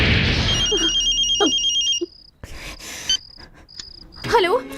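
A telephone rings in a Hindi-dubbed South Indian film scene, a tonal electronic ring repeating in several short bursts amid background noise, with brief voice sounds nearby.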